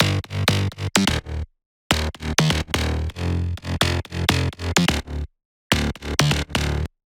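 Bouncy synth bass line, the first layer of an electronic dance track, playing short punchy staccato notes in choppy bursts with some higher notes mixed in and a few brief silent gaps, loud and dry.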